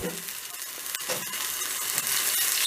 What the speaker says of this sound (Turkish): tavaya boşaltıyorum. ardından bir su bardağı et suyu.